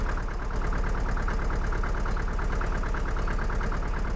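A Lanz Bulldog tractor in Farming Simulator 2013 idles with a steady, loud, rhythmic thumping engine pulse, constant and close throughout with no voices over it.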